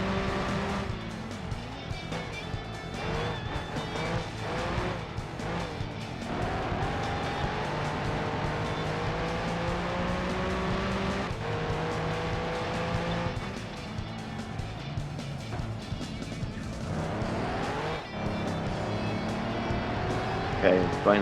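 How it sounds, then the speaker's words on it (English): Modified TVR Cerbera fitted with a V12 engine, racing in Gran Turismo 2: a continuous loud engine drone with rising gear sweeps and occasional tire squeal, under ongoing commentary. "this car is just a modified TVR Cervera equipped with"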